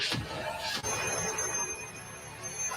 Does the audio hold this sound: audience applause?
no